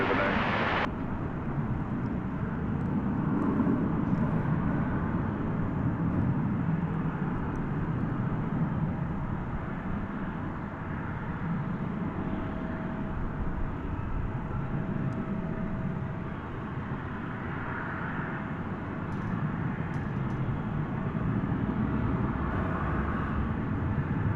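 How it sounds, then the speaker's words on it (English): An American Airlines Airbus A321 airliner on the runway at DFW after dark gives a steady, loud broadband jet roar that holds for the whole stretch, near and continuous with only slight swells in level. "Here's an Airbus A321 American Airlines. This will be taking its passengers and cargo to Las Vegas."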